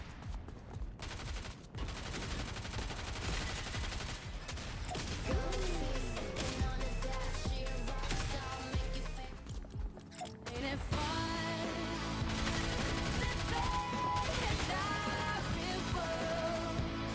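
Fortnite gunfire, with rapid bursts of shots, crashes and impacts over busy game music and effects. It is loud and continuous across the whole stretch, with a brief dip midway.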